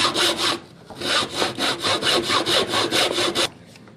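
A Husky hand saw cuts through wood with a steady run of rhythmic back-and-forth strokes, close and loud, then stops as the cut finishes.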